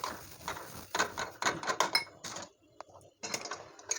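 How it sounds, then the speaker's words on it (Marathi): Spoon stirring finger millet (ragi) flour into just-boiled water in a pot for bhakri dough, with the gas turned off: irregular bursts of scraping and clinking against the pot, close by, with short quiet pauses between strokes. "पीठ छान मिक्स करून घेऊया पाण्यामध्ये"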